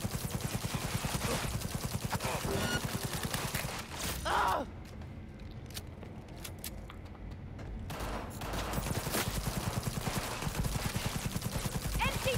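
Rapid automatic gunfire from a weapon in the game Cyberpunk, loud and close in rhythmic sustained bursts at the start and end, with a quieter pause and a gasp in the middle.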